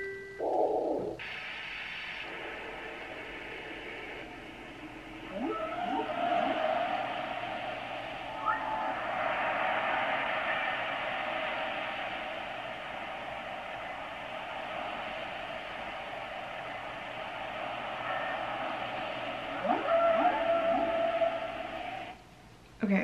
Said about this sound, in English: it is a white noise maker and a timer, and it also plays like soothing sounds